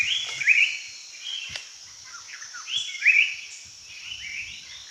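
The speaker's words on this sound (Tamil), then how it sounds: "இப்போ நீங்கள் பார்த்த அந்த கருப்பு கலர் குருவி வந்து ராக்கெட் டெய்ல்டு ட்ராங்கோ" A racket-tailed drongo calls in monsoon forest in Periyar Tiger Reserve, two bright twittering bursts a few seconds apart over faint insect hum and quiet background.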